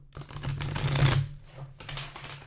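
Cards are riffle-shuffled close by, a quick rising flutter of snapping edges that peaks and fades, followed by a softer second riffle.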